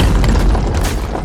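A heavy cannon shot explodes in Phoenix Point, a turn-based strategy game, striking an Arthron: a loud, dense boom with a rumbling low end that fills the whole short moment and carries no talk.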